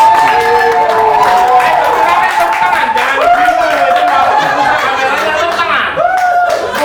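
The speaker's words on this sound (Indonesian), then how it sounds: "Tepuk tangan dulu." Police officers and audience at a gathering clap and cheer, a busy crowd din of applause mixed with chatter and laughter that holds steady for several seconds, with voices talking and shouting throughout.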